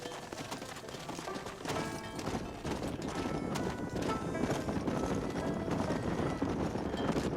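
Horse hooves clip-clop in a steady galloping rhythm in the video game Red Dead Redemption, with occasional whinnies and a background score, fairly loud and continuous.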